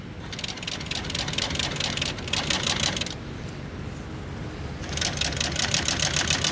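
A sewing machine stitches a cushion cover with a fast mechanical rattle. It runs in two bursts separated by a brief, quieter pause, close and steady throughout.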